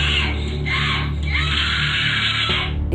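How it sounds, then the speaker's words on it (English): A girl screams in rage at the top of her lungs, loud, raw and sustained across the whole stretch with barely a break. "she just screaming in rage at the top of her lungs"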